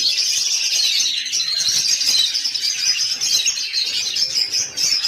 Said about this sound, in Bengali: জেপি বদ্রি ব্রিডিং, জাপানিজ বদ্রিগার, অনেকে হেলিকপ্টার বদ্রিও বলেন।